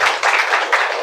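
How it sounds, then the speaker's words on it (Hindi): Applause from a live audience at a motivational class gathering in Dimapur, Nagaland, a steady dense wash of many hands clapping that fills the whole moment without pause. "बीच बीच में ताली भी जरूर बजाना।"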